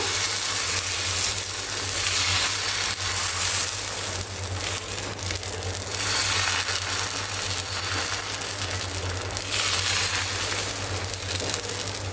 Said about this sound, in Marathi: तर आता आपण दुसरा धिरडा टाकूया यात प्रत्येक वेळी हे मिक्स करून घ्यायचं व्यवस्थित व्यवस्थित पसरून घेऊया